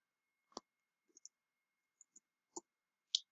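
A URL is typed on a computer keyboard: a handful of sparse, quiet key clicks spaced unevenly over a few seconds, in an otherwise silent room.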